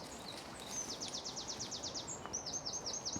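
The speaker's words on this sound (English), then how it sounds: "Wow, noisy birds." Birds chirp in rapid repeated trills, a steady run of high tweets over a soft, noisy outdoor background.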